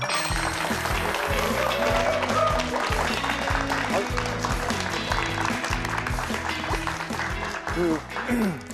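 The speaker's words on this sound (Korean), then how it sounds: "여러분 큰 박수로 모시겠습니다" Audience at a lecture event applauding as a Sungkyunkwan University materials engineering professor is welcomed on stage, a sustained burst of many hands clapping under loud music, fading slightly toward the end.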